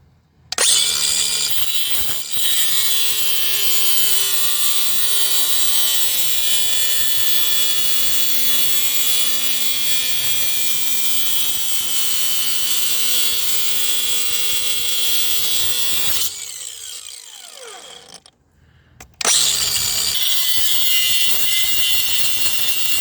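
A cordless power tool drives out a chain link pin, giving a loud, steady high whine for about sixteen seconds. It cuts out briefly, gives a short burst, then runs again.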